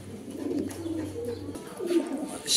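Pigeons cooing in a fancy pigeon seller's loft, low soft coos repeating close by with a brief pause midway, then another coo near the end.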